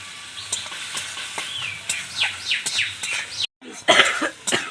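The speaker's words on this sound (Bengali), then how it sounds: "সর্ষেটা একটু হালকা একটু কষে নেব আমি এর মধ্যে দিয়ে দিচ্ছি হলুদ গুঁড়ো লবণ" Mustard paste sizzling in a pan with turmeric and salt, a steady close fry with stirring scrapes, broken by a cough and chirpy squeaks and a brief dropout.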